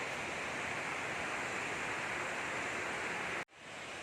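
Steady broadband roar of Khlong Lan waterfall in Kamphaeng Phet, Thailand, loud and continuous, briefly cut off near the end before resuming.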